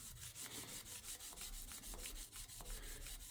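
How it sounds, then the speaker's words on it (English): Soft, steady rubbing hiss of sandpaper against a wooden pen spinning on a lathe, with a faint rhythmic pulsing, quiet and close, no voices. "This is my final sanding stage."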